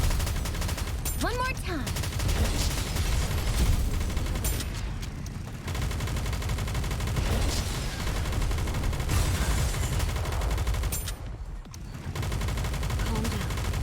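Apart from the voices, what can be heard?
gunfire in the video game Nikke: Goddess of Victory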